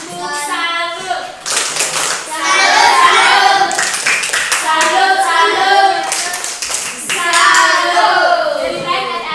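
A class of young pupils performs a patterned salute clap, bursts of rhythmic hand clapping under lively chanting children's voices, close and loud for several seconds.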